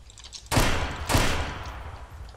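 Gunfire in a video game: two loud bursts of shots about half a second apart, each trailing off into a decaying rumble, with no voices.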